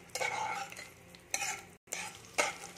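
Peanuts, garlic and green chillies are fried and stirred in a pan, with a few quiet scraping strokes over a soft sizzle and a short pause between them.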